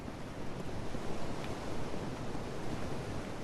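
Ocean surf washing steadily in Dark Souls II Scholar of the First Sin, a continuous broadband roar of waves with wind, fairly loud and unbroken, with no voices.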